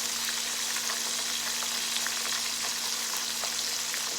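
Mushrooms frying in hot grease give a dense, unbroken sizzle with scattered tiny pops and a faint steady hum underneath.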